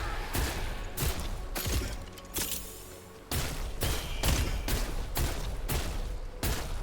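Gunfire in the video game Wayfinder: a run of sharp, evenly spaced shots, about a dozen loud bursts over a few seconds with brief gaps between volleys, alone with no talk.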